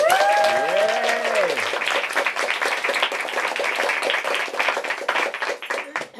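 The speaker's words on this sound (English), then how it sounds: "Let's give one more hand for Shruti Swamy" A literary event audience applauds for author Shruti Swamy, with dense clapping and a few cheers that hold steady, then thin out toward the end, with a brief voice heard early on.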